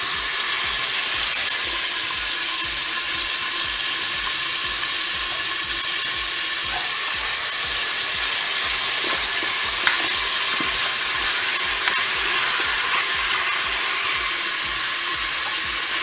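Onions frying in a Cookeo electric pressure cooker, a steady dense sizzle running throughout with faint stirring clicks and no voices.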